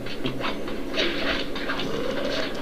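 A train in the Sly 2 video game rumbles along with a steady, loud rhythmic clatter, and no talk is heard.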